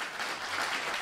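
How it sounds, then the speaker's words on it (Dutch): Audience applause fills a studio hall at a talk event, a dense continuous patter of many hands clapping at steady loudness without voices. "Applaus."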